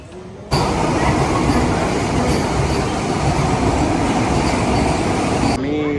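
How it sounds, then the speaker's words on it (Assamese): A train pulls into a station with a sudden loud, sustained roar of wheels on rails and rattling carriages that fills several seconds before easing, with faint voices around. "আমি যোৱা ট্ৰেইনখন আহিছে এখন বৰ্তমান।"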